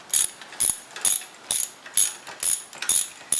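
Ratchet wrench loosening the spark plug on a Yamaha Tenere 700 motorcycle, seven loud close bursts of rapid clicking in an even rhythm, with no talk.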